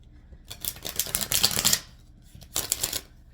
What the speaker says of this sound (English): Cards have been pre-shuffled, but we'll give it one more.